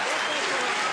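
Crowd in Sweden roaring behind their fighter at an MMA bout, a dense, loud wash of cheering and applause that fills the whole moment, with an announcer's voice likely mixed in.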